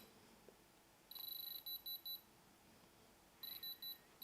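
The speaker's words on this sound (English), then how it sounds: "we got the fingers on the back of the diamond tester" A diamond tester held against a moissanite stone set in a 925 silver Cuban link bracelet, giving two bursts of rapid high electronic beeps, quiet and close, with no talking.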